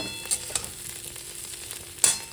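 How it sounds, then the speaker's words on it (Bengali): Quiet, steady sizzling of spiny gourd frying in a pan, with a few sharp crackles and a faint scrape of stirring. "এখানে হচ্ছে কাঁকরোল ভাজা"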